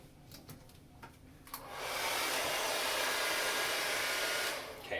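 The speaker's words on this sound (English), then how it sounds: "You're gonna plug in your hair dryer." A hair dryer switches on partway through and then blows steadily on a low setting, a loud even whoosh that holds for several seconds before easing slightly at the end, used while styling a boy's competition hair.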